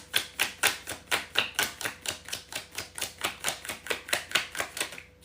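A deck of playing cards riffle-shuffled over and over, a fast steady run of crisp flapping bursts close up with no talking.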